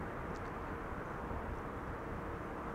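Airliner arriving from Athens on runway 27: a steady, broad jet roar at a distance, faint and even throughout with no clear change in pitch.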